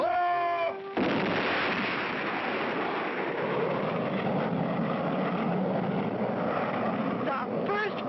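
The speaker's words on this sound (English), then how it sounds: "Then came the final countdown. 2, 1, blast off!" A cartoon rocket ship blasts off for the moon with a loud, sustained roaring rumble that starts abruptly and holds steady for several seconds.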